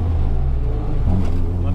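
Mini Cooper S engine revving behind a car on the road, heard as a steady low engine drone with a slight rise, close by, under a voice talking.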